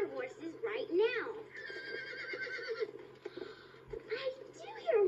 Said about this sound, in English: I do hear horses right now.